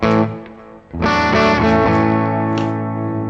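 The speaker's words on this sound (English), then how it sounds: "So I'm playing through a Princeton reverb right now with no pedals." Electric guitar played through a Princeton Reverb amp with no pedals and reverb turned up, with a little delay. A few loud strummed chords ring out into a long, washy reverb tail, alone without talk.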